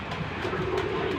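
Domestic pigeons kept in a home loft coo in a brief, low, continuous murmur, close by with no talk.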